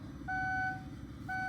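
A 2005 Kia Sedona gives two short electronic warning beeps, the first longer, clear over a steady idling engine hum.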